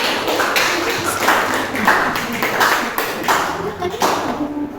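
A classroom group gives rhythmic applause for a presenting student team, several seconds of steady clapping from people nearby, with a voice speaking briefly amid it.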